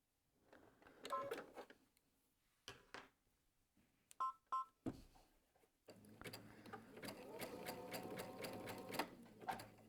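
A sewing machine stitches a frangipani appliqué in short stop-and-start runs of rapid mechanical whirring, close up, with brief beeps and clicks between bursts and a longer steady run at the end.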